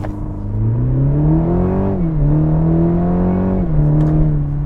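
A 2021 Cadillac CT4 launches hard off a brake-torque start, its engine roaring loudly and climbing in pitch through two upshifts, each marked by a brief dip before the revs rise again.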